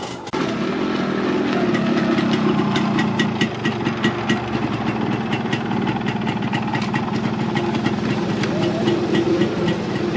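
A restored Yamaha RX100 two-stroke motorcycle engine runs steadily close by with its silencer, giving a continuous loud idle with a fast, even pulsing beat that starts abruptly and holds for about ten seconds.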